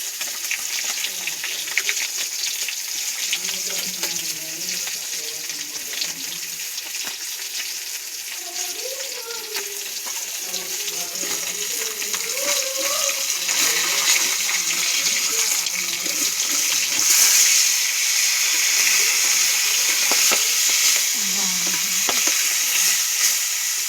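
Pond-caught fish fry in hot oil in a pan, a steady close hiss and crackle of sizzling that grows slightly louder, with a voice talking intermittently underneath.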